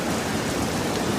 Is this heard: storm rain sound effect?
yes